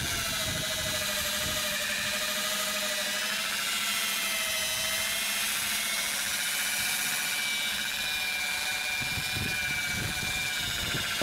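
A steady, high-pitched electric whine from a drill or polishing machine buffing car paint runs continuously and close, with faint low knocks underneath.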